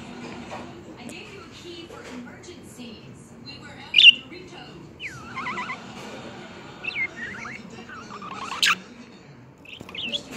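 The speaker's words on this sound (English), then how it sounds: "What is your obsession with my hand, bird?" A pet bird squawks and chirps close by in a handful of sharp, rising calls, with soft rustling and handling noises between them.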